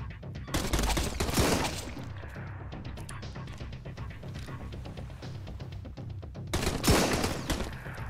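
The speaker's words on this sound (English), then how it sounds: "I wasn't really expecting seriously some machine gun." Bursts of rapid machine gun fire in the survival video game Sunkenland, a loud rattling volley at the start and another near the end, with scattered shots between them.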